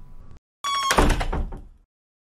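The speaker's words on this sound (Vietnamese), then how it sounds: "Sao bỗng dưng đã đóng cửa lại rồi?" A heavy castle door in an animated film swings shut with a solid wooden thunk and a brief rumbling scrape, loud and close, after a short faint sound and followed by silence.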